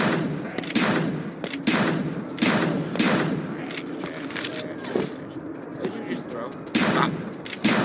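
Rapid bursts of gunfire in a PC video game firefight, loud and repeated in clustered volleys throughout, with a voice talking over parts of it.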